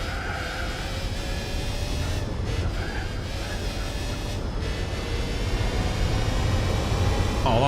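A car engine in the Gran Turismo 4 racing game drones steadily through a tunnel, a continuous, fairly quiet echoing roar that holds its level throughout, with no talk.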